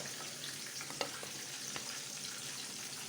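Stuffed minced chicken frying in a pan, a steady quiet sizzle with faint crackles throughout and one small clink, no talking.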